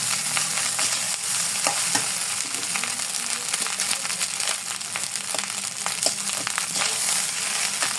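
Rice stir-fried with beef in a pan, a steady close sizzle and hiss broken by scraping stirs and light crunchy clinks throughout, with no talking.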